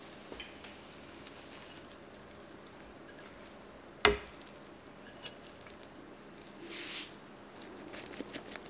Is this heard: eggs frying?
yes